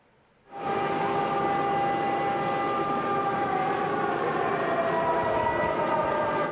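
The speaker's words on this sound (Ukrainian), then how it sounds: "Під звуки повітряної тривоги мешканці будинку у центрі Львова поспішають в укриття." A loud, steady air raid siren wails continuously in central Lviv after a brief quiet start, droning at a constant pitch without pause.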